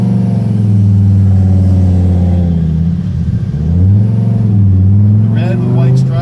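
A red 2002 Hennessey Viper with white stripes, its engine revving hard and loud close up, pitch climbing, dipping briefly around a shift, then rising again.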